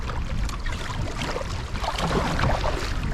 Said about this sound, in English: we're riding rapids here